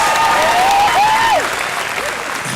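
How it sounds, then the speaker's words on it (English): Big round of applause at a high school graduation ceremony, dense crowd clapping heard throughout and fading slightly toward the end, with a whistle and a cheer rising over it. "Let's give them a big round of applause."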